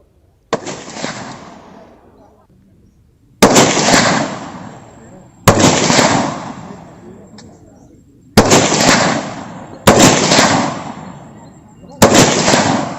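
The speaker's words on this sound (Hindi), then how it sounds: "अब 2 दिन से वीरपुर फायरिंग रेंज में अभ्यास चल रहा है।" Gunfire at the Veerpur police firing range during shooting practice: six loud, sharp reports spaced a few seconds apart, each with a long echoing decay across open ground, heard alone.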